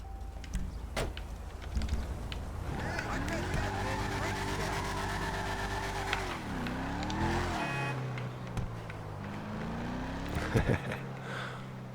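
Customized Declasse Mamba, a Shelby Cobra-styled race car in a video game, driving down a street: the engine revs rise and fall through several gear changes, with brief tire squeal, loud and close, while a person talks over it.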